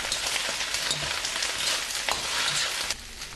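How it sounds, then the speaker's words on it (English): Chinese cabbage stir-frying in oil with a teaspoon of Sichuan peppercorns sprinkled in, a steady close sizzle with scattered crackles and brief scrapes of stirring throughout. "We sprinkle a teaspoon of Sichuan peppercorns and continue stirring."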